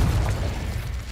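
The Confringo fire spell in Hogwarts Legacy goes off as a loud, dense, booming blast that fills the whole short moment with deep rumble and no voice over it.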